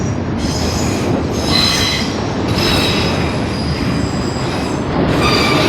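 A long CN manifest freight train rolls steadily past close by, loud continuous rumble of wheels on rails with metallic squeal and screech rising and fading throughout.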